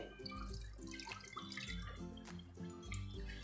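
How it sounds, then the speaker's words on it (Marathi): Half a cup of water is poured from a bowl into sabudana dosa batter, making a quiet, steady splashing trickle up close with no voices. "यानंतर आपण घालणार आहोत अर्धा कप पाणी सगळं पण इथे समप्रमाणात घेतलेलं आहे याच भांड्याने मी इथे पाणी घालत आहे"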